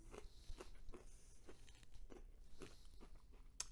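Crisp crunching bites into a crusty homemade beer bread loaf, followed by steady chewing, a rhythmic series of close, loud crunches repeating about every half second.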